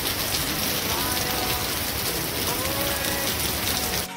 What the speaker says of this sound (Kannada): ಡೆಲಿವರಿ ತೊಗೊಂಡಿದ ತಕ್ಷಣನೇ ಜೋ ಹೊರಗೆ ಮಳೆ ಬರಕ್ಕೆ ಸ್ಟಾರ್ಟ್ ಆಯಿತು